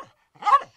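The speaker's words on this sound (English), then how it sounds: "heard his name and started barking" A single short dog bark, a small burst standing alone in otherwise quiet surroundings.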